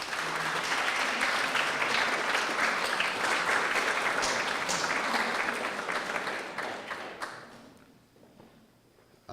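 Sustained audience applause welcoming Dr. David Shields to a Drayton Hall distinguished speaker evening, a dense wash of many hands clapping for about seven seconds before thinning out and fading.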